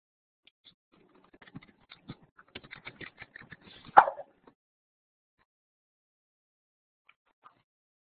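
Scattered keyboard typing caught by an open microphone, a run of soft irregular taps with one louder clack near the middle, then near silence.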